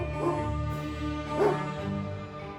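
A dog, a story sound effect, gives two short barks about a second apart over a soft, steady musical bed.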